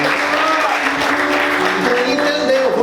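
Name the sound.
congregation applauding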